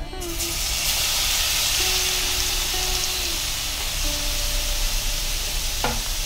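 Garlic paste hitting hot oil in a pan for sesame mango pickle, a loud steady sizzle and hiss running throughout with brief stirring scrapes and a sharp clink near the end.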